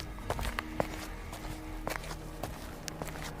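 Quick running footsteps patter in a Hindi horror audio drama set on a train, with light irregular thuds and scuffs at a moderate distance under a low background rumble.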